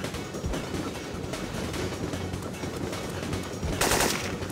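Rapid video game gunfire crackles steadily, machine-gun bursts and shots layered into a dense racket that swells louder near the end.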